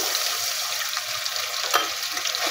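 A spice paste of mace, cinnamon, cardamom and coriander with garlic paste fries in oil for a spicy chicken curry, a loud, steady close sizzle with faint scraping stir sounds and no voices.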